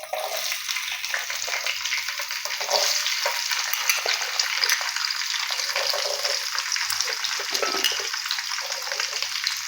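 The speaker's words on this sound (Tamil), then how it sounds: "இப்போ வந்து பூண்டையும் சின்ன வெங்காயத்தையும் போட்டுக்கலாம்." Garlic cloves and small shallots drop into boiling oil and fry hard, giving a loud, continuous crackling sizzle close by with the sound of stirring.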